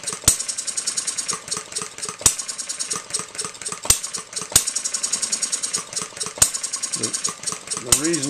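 An Economy hit 'n miss model engine runs up close with its valves working, firing in sharp irregular pops between a fast mechanical ticking, while someone talks over it.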